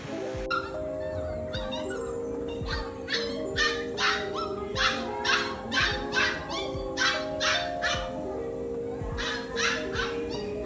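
A husky dog barks and yips repeatedly in a lively, uneven rhythm, with whimpering tones mixed in, loud and close with no talking.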